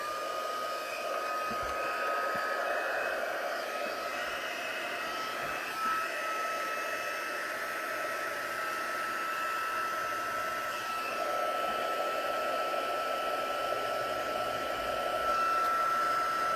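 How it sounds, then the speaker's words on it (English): Heat embossing tool blowing hot air onto a crafted card, a steady loud whooshing drone with a faint whine, continuous and close with no speech. "we will get this heat embossed"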